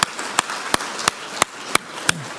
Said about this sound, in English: Please give a round of applause to our panel.